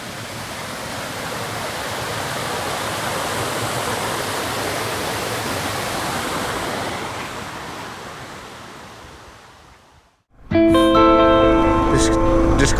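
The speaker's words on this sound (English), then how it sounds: "and our waterfall." A waterfall beside a creekside campsite, a steady broad rush of falling water close by that swells and slowly fades, before a voice speaks over a louder burst at the end.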